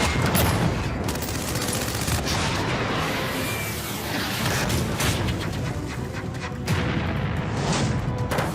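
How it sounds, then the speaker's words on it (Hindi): Rapid bursts of gunfire from an ASMI machine pistol, rated at 600 rounds a minute, loud sharp cracks that come in dense clusters and echo over a continuous background. "यह पिस्टल 1 मिनट में 600 गोलियां दाग सकती है।"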